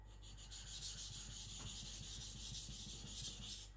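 Steady abrasive rubbing of a custom knife blade being sharpened just behind the edge, worked on the backside with a continuous scraping hiss, close and alone.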